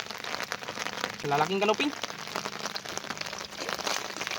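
Steady rain patters on a surface throughout, a continuous hiss with a person speaking briefly over it partway through.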